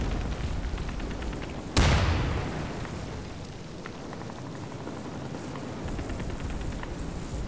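A Molotov cocktail bursts in the shooter game Insurgency with one sharp, loud whoosh-boom partway through, then fades into a crackling, hissing roar of fire over steady background battle noise.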